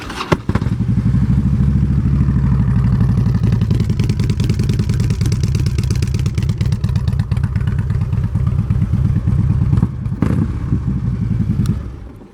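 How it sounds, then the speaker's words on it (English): A 2009 Harley-Davidson Street Glide with Reinhardt exhaust pipes, stage 1 kit and high-volume air intake, idling loudly up close with a deep, lumpy rumble and a few sharp throttle blips, running steadily the whole time without talk. "Go ahead and do a little demo of the pipes."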